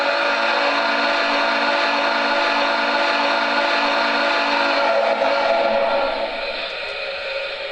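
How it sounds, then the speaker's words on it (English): A steady, chord-like whistle from an MTH Premier Southern Pacific GS-4 Northern model locomotive sounds continuously for about six seconds, then eases lower in volume near the end, with no talking. "Here's the whistle."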